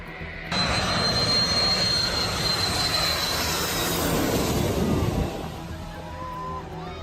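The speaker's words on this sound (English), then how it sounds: "The approach is so close that signs warn tourists about jet blast winds." A jet airliner on a very low landing approach roars loudly overhead, a sustained rumbling engine noise with a whining tone that swells and then eases as it passes.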